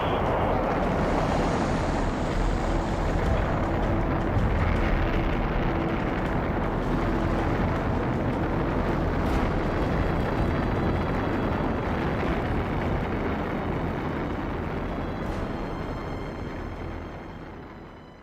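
A deep, continuous roaring rumble from an Apollo-era rocket launch with engines igniting, heavy broadband noise sustained for many seconds and slowly fading near the end, with no voices over it.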